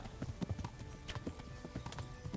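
A horse gallops in the video game Kingdom Come: Deliverance, with steady, quick clip-clop hoofbeats close by and a fairly quiet, continuous rhythm.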